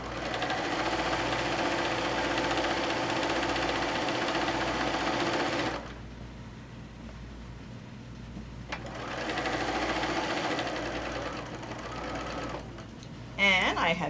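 A sewing machine stitches a quilt tack through layer-cake quilt blocks, running loud and steady for several seconds, stopping, then whirring again close by.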